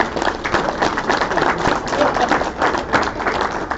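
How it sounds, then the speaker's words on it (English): Audience applauds a guest speaker from ProClean being introduced at a pressure-washing industry conference, a dense burst of clapping with scattered thumps that stays steady and close for several seconds. "Give him a round of applause."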